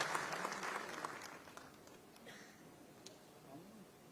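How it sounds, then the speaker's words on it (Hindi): Applause from the audience at an Anti-Corruption Bureau foundation day ceremony in Jaipur patters softly from a distance and fades away over a few seconds. "तालियों से स्वागत करें"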